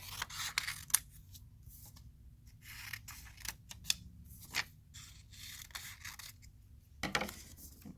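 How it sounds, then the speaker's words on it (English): Scissors snip through stacked paper word cards, giving sharp, close cuts in uneven bursts with short quiet gaps between them and no talking. "So let's cut each one out really quick."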